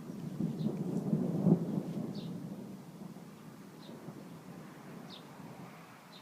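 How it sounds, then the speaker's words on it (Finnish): Thunder rumbles low during a thunderstorm, building to a heavier roll near the start and then fading into a long, distant grumble. Faint rain and wind sit underneath, and no one speaks. "Rätisee salama iskee kohta."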